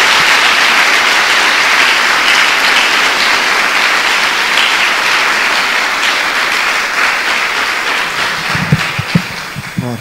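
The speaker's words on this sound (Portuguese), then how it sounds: "Dê uma salva de palmas a Jesus." Church congregation applauding together in sustained, dense clapping that fills the space, loud and steady throughout, tapering slightly near the end as a few louder individual claps stand out.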